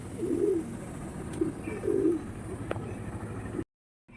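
Pigeons feeding, one wearing a leg ring, give a few soft cooing phrases close by, spaced apart, before the sound cuts to silence.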